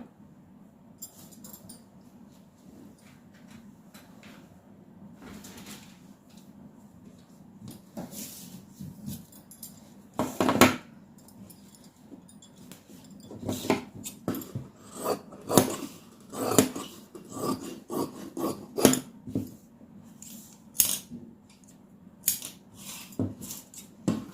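Scissors cut through blouse fabric in a series of crisp, close snips, sparse at first and then coming quicker and louder in irregular bursts over a low room hum.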